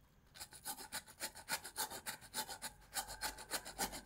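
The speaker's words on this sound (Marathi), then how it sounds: "हा भोपळा किसून घेऊया छानपैकी असा मस्त बारीक किसून घ्यायचा" Pumpkin being grated finely on a grater for paratha, a steady rhythmic rasping of quick back-and-forth strokes, close and fairly quiet, with no talking.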